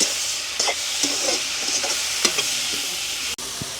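Small tomatoes stir-fried in a hot pan, a steady sizzle broken by scraping stirs and clinks of the spatula against the metal, close and continuous without any voices.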